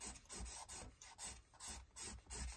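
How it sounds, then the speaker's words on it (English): Paint being scraped off an art journal page, a close, rhythmic rasping in repeated short strokes, about a dozen even back-and-forth scrapes with no talking. "I'm just starting to scrape it off now"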